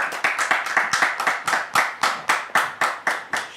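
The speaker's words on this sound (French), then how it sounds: "recevoir le pasteur David sous vos applaudissements" An audience welcomes a pastor with clapping, a loud, close run of sharp claps in a steady, even rhythm, as if the crowd claps together in time.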